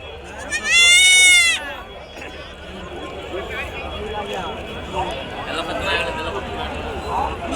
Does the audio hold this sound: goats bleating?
yes